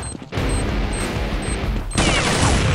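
Gunfire from an AWP sniper rifle in the video game Counter-Strike, loud and continuous across the clip, with a harsher, brighter blast near the end.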